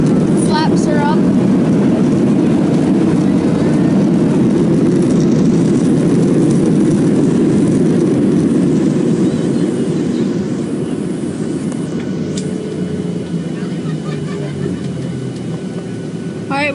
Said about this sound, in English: it was actually a pretty soft landing.